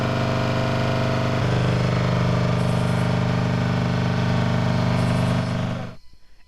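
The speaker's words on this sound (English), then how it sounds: "The sound of generators revs from a distance, distorting the night chirps by crickets." Generators drone at night in a township cut off from the national grid, a steady, loud mechanical hum with a regular pulse that runs unbroken before cutting off abruptly near the end.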